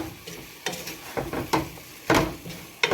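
Seasoned ground meat stirred in a pot with garlic powder, giving soft scraping and wet shuffling strokes at an irregular pace over a faint sizzle, close and fairly quiet.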